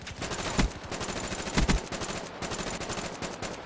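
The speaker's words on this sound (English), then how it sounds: "And he's just shooting, revealing my position." Gunfire from another player in a PS4 video game: rapid automatic bursts, with a few heavier, louder shots standing out, firing continuously at close range with no talking.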